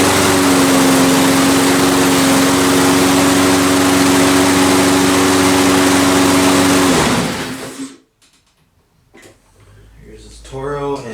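A Toro lawn mower engine runs loud and steady for about seven seconds, then cuts out and winds down to near silence, followed by a few faint knocks and rustles.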